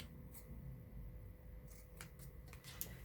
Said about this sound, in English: Then you snip it off.